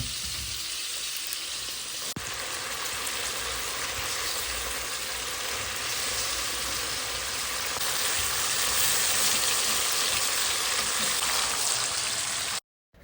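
Hilsa fish and shrimp frying in hot oil in a home kitchen: a loud, dense, steady sizzle that goes on for the whole stretch and then cuts off abruptly at the end.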